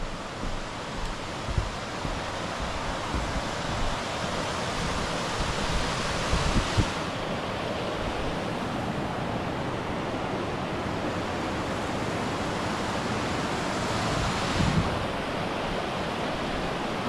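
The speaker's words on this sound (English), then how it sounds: "And got a little river down here." A small river on the Chimney Top Trail rushes steadily after rain, a continuous broadband wash of flowing water close by with no talking.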